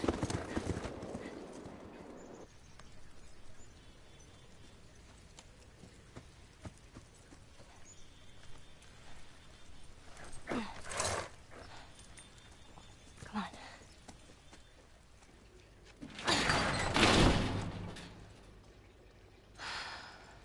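Horse hooves clip-clop in The Last of Us, with a clear rhythmic hoofbeat running through the clip. Louder bursts of movement and breathy gasps rise near the middle and again toward the end, and a faint voice is heard briefly.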